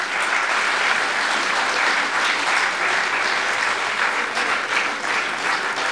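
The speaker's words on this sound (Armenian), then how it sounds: "կուզենայի ծափահարել բոլոր այն թեկնածուներին," An audience at a national minorities festival in a philharmonic hall bursts into sustained, dense clapping that stays loud and even for several seconds.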